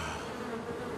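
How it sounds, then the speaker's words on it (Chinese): Bees buzzing continuously on an island, a dense, steady drone filling the whole moment with no voices. "这岛上怎么这么多蜜蜂啊？"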